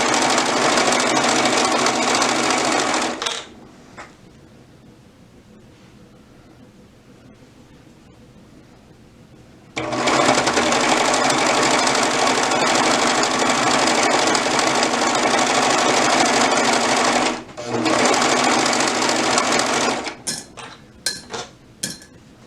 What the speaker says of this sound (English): And then just sew all the way around.